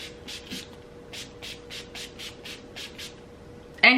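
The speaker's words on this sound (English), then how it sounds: "Let me spray my face real quick." Face mist being sprayed from a spray bottle, a rapid series of about ten short, soft hissing bursts in an uneven rhythm, close and quiet, ending in a sharp louder clatter.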